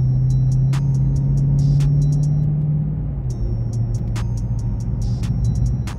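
A 2021 Dodge Charger 392 Scat Pack Widebody in track mode: a loud, steady engine drone fills the clip, punctuated by sharp crackling pops from the exhaust that come in irregular clusters.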